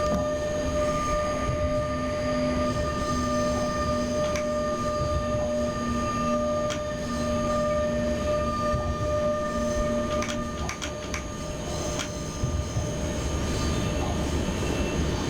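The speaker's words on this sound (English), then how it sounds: "This is a very, very cool train as far as I'm concerned." A train runs in the SimRail train simulator, with a loud continuous rumble under steady whining electric tones and occasional sharp clicks from the cab.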